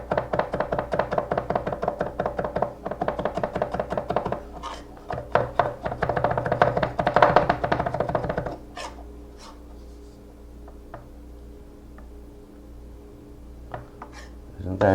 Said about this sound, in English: So mincing off your garlic this way isn't that tough